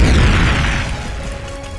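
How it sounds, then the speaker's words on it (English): A Tail Beast Bomb explodes in a Roblox game, one loud booming blast at the start that rolls and fades over a second or two, with nothing else heard. "Tail Beast Bomb, and you're out"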